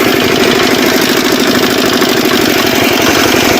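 A homemade nano tractor engine running during a live farm demonstration, a loud, close, steady chugging idle with fast rhythmic knocking pulses and mechanical vibration, no talk.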